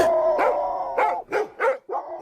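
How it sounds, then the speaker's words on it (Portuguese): Several dogs barking at a car at midnight on a road, a quick run of about six sharp barks at moderate distance, with no voices. "vários cachorros, que quando viram o carro começaram a latir"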